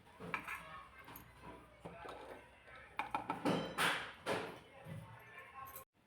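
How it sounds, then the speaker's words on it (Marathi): Soaked sabudana is scooped into a mixer jar, giving soft clattering and scraping knocks of utensil against jar, fairly close, with a louder burst of clinks near the end. "एका मिक्सरच्या भांड्यामध्ये हे काढून घेते"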